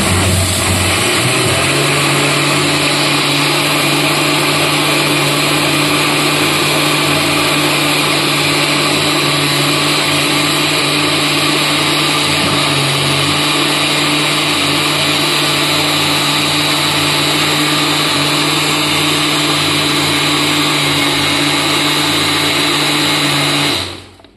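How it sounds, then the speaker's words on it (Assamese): An electric mixer whirs steadily for about twenty-four seconds, blending a chocolate milkshake, a loud continuous motor drone with a faint shift in pitch near the start and a cutoff at the end. "ইয়াতে আমি এতিয়া গোটেইখিনি ধুনীয়াকৈ মানে মিক্সাৰটো তৈয়াৰ কৰি ল'ম শ্বেকটো"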